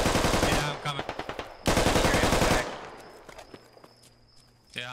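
Machine gun fire in the military shooter game Squad rips out in two long loud bursts with rapid rhythmic shots, followed by quieter footsteps and distant game sounds.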